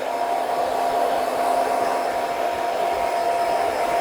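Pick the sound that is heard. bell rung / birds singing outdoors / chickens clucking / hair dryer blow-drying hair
hair dryer blow-drying hair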